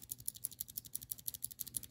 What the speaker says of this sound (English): Here's what a stock Cherry MX Blue sounds like. You can definitely hear the ping spring in it.